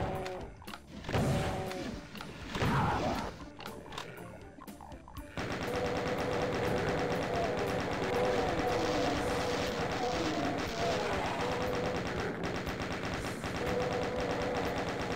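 Rapid minigun fire in DOOM II: No Rest for the Living, level 7 on Ultra-Violence, played on an Xbox 360 gamepad. Scattered game noises give way at about five seconds to a dense, sustained, loud burst of fire that runs to the end.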